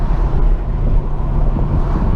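A car engine drones over wind rushing steadily through an open window while driving, a loud, constant low roar with no speech.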